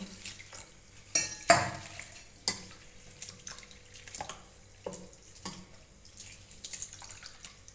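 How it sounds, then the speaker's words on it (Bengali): Flattened rice being washed with water in a big bowl, with soft splashing, trickling and drips broken by a few sharp knocks of a utensil against the bowl, close and moderately quiet with no talk. "এতে চিড়েগুলো ঢেলে দিচ্ছি ভালো করে জল দিয়ে ধুয়ে নেব"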